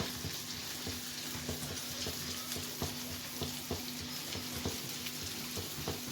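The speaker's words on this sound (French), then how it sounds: "On va donc replonger nos pavés de truite avec ce beurre persillé." Trout fillets sizzle in a pan with parsley butter, a steady close crackle and spitting with small clicks of the utensils, no voices over it.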